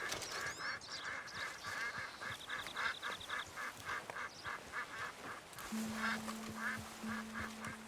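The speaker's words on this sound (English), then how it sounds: "The ducks out there." Ducks bathing in open-world video game Red Dead Redemption 2 quack and honk repeatedly in short irregular bursts, close and fairly clear, with a steady tonal drone entering partway through.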